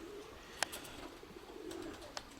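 Pigeons in a dovecote give soft, brief coos, quiet and close, with a couple of sharp taps or wing flicks standing out against a faint background.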